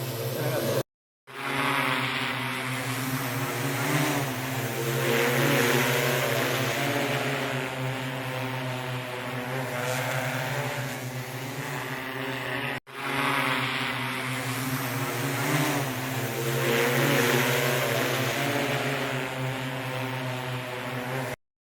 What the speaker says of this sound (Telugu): పొలానికి మందు కొట్టే నూతనంగా వచ్చిన డ్రోన్ వీడియో ఇది